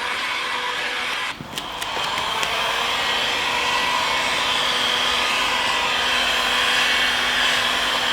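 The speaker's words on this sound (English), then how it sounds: "I'm gonna grab the heat gun, heat up the entire thing," Heat gun warming tint wrap on a car taillight, a continuous loud blowing hiss that holds steady throughout with a brief dip near the start.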